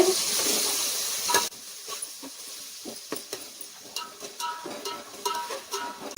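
Ginger-garlic paste hits a hot pan for chicken biryani with a loud, steady sizzle for about a second and a half, then settles into softer frying broken by repeated spoon scrapes and taps as it is stirred.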